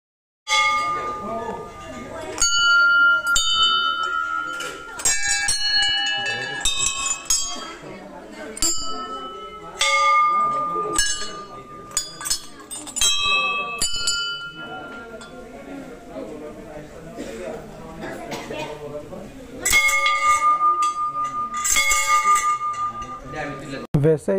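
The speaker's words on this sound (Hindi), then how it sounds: "वैसे ये घंटी बजा के मज़ा आ गया, क्योंकि ये अलग अलग घंटी में अलग अलग साउंड आता है" Temple bells of different sizes rung at a Hindu temple in Tripura, many bright metallic strikes with long ringing tones overlapping in irregular bursts, loud and close, with people talking underneath.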